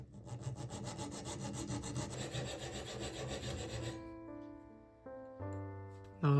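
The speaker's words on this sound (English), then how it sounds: "I'll start by cutting off the tube ends for the hinge." A hand saw cuts off metal tube ends for a hinge in rapid, steady rasping strokes, then stops; a few tonal clinks and a short hum follow.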